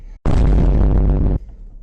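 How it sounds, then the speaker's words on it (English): Heavy blow against the body panel of a Nissan 350Z, a single loud metallic bang that rings out for about a second, then quiet shop ambience. "I'm gonna hammer this area back a little bit"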